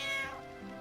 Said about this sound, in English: that cat sound effect is so fucking loud